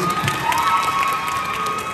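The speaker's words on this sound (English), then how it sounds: "round of applause, please" A crowd cheers and shouts continuously at a convention stage event, a steady wash of excited voices with no clear breaks, fairly loud and close.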